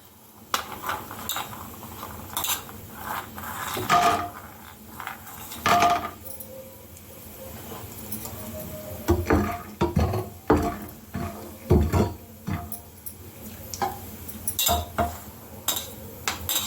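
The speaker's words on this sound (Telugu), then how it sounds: "ఇప్పుడు వేరుశనగ పలుకులు వేస్తున్నాం" Peanut pieces are tossed into a pan for a South Indian tempering, followed by irregular metallic clinks and scrapes of a spoon stirring against the pan, close and fairly loud.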